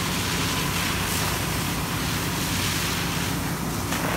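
A fire hose nozzle tip discharging about 150 gallons per minute of water, a hefty handline that can take several people to hold, gives a steady, loud broadband rushing spray that fills the whole clip without pause.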